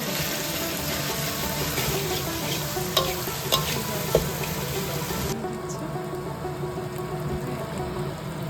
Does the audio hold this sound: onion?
yes